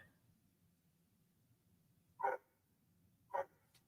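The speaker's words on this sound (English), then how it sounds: "I gotta see what Jack's barking at." Two short dog barks sound from a little distance, about a second apart, over a quiet room.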